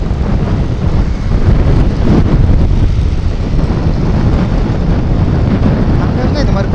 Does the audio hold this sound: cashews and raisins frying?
no